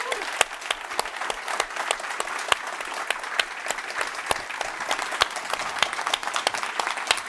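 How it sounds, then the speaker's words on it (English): A conference audience claps for a speaker at a Nordic reform event, a steady wash of moderately loud applause with sharp individual claps standing out near the listener. "a big applause for Johan"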